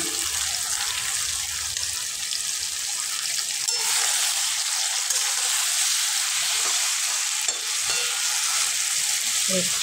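Taro greens being sautéed with hilsa fish head, seasoned with turmeric and salt, sizzle and fry steadily in a pan, with a constant bright crackle and occasional stirring scrapes, close and continuous with no talking.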